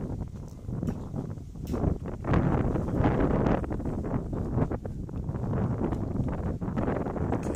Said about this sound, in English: Let's try to get out of this wind,